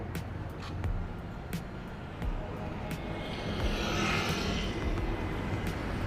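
A tractor-head truck approaches along a street, its engine rising to a broad, growing rumble and whoosh as it draws near, with faint ticking noises and some talk in the background.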